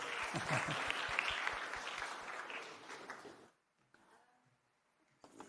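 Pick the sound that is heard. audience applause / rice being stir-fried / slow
audience applause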